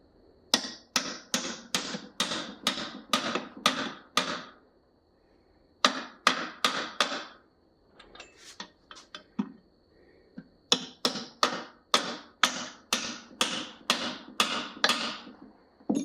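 Bushings being tapped into place with a hammer: rapid runs of sharp, close metallic taps in steady bursts, each run several seconds long, separated by brief pauses with softer scraping handling sounds.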